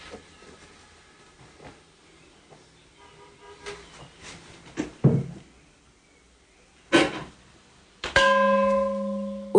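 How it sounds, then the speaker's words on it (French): A monk strikes the ritual gong at a cliffside shrine on Wudangshan. Faint knocks and rustles come first, then one loud strike near the end that rings on with a sustained, slowly fading tone. "Il est chargé de faire sonner le gong rituel qui aide les pèlerins à se concentrer lors de la prière."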